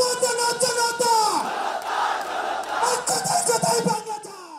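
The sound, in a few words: jubilant crowd chanting revolutionary slogans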